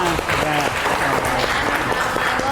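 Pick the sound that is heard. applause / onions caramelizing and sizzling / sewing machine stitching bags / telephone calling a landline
applause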